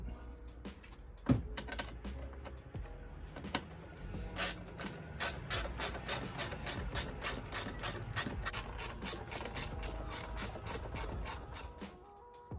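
A ratchet with a 7mm socket turns Jubilee hose clips while fitting an Airtec crossover pipe on a Mk2 Focus ST225, rapid clicking pawl strokes in a steady close rhythm over a quiet background.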